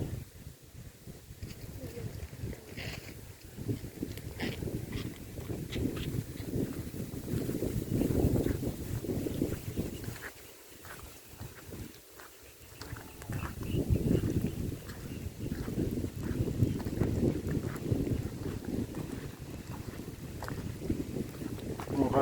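Gusting wind buffets the microphone outdoors on a rainy day at a new cattle pen, a loud, steady low rumble with brief lulls, while people talk over it.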